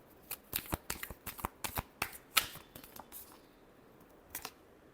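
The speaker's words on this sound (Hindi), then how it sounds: "Last shuffle." Tarot cards are shuffled close up in a rapid series of crisp riffling snaps and flutters, irregular and dense for about three seconds, then a brief final burst after a short pause.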